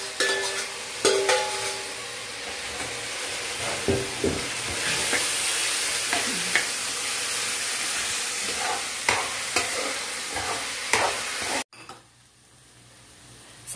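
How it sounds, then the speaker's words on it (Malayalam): Onion and potato frying in a pan while being stirred, giving a steady close sizzle broken by scraping utensil strokes, alone with no talk, the sound cutting off near the end. "ഇത് രണ്ടും കൂടെ ഒന്ന് ഇളക്കി കൊടുക്കണം"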